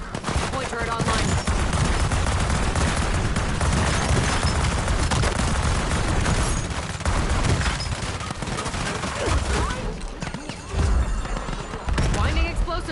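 An automated point turret in a video game firing in a dense, relentless stream of rapid shots mixed with booming impacts, loud and continuous, with a player talking over the din.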